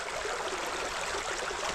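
Fast, streamy river water rushes over a rapid on a small Lancashire river, a dense, steady broadband hiss with no pauses, heard close and alone.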